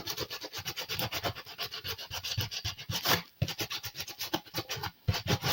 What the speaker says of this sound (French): on va lui mettre un coup de ponçage encore dans les arêtes